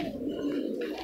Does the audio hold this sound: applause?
no